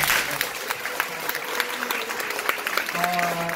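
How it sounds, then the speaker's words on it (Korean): Audience at a sponsor meeting clapping for the people seated beside them, a crisp, fairly loud patter of hands with voices mixed in and a brief tonal sound near the end. "우리 옆에 함께 앉아 계신 분들 위해서 큰 박수 한번 치고 시작하자"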